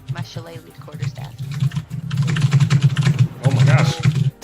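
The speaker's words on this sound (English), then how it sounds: "Austin, why don't you mute your mic when you type?" Rapid typing on a computer keyboard comes through a live microphone as bursts of loud, close clicks, with a steady low hum underneath and brief speech early on.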